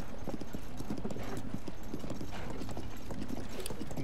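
A horse clip-clops through Zelda: Tears of the Kingdom with steady hoofbeats close by, backed by a faint whinny and game ambience, and brief murmured talk is barely present.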